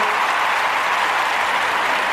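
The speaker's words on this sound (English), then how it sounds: "Round of applause for that, man" Sustained applause from a crowd, dense and steady throughout with no voices on top, cheering a basketball player's nine-time all-defense record.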